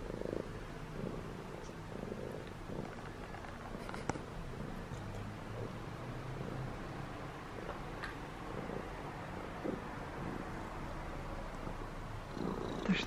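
A domestic cat purrs steadily and softly close by indoors, a continuous low rumbling drone lasting throughout with no other notable sounds.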